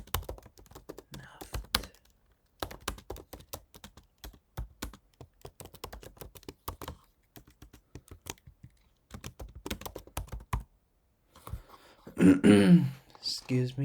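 Typing on a computer keyboard during C++ programming, bursts of quick close key clicks separated by pauses, followed by a throat clearing near the end.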